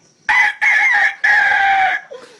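A man imitates a rooster's crow, a loud, close cock-a-doodle-doo in three strained bursts, the last drawn out.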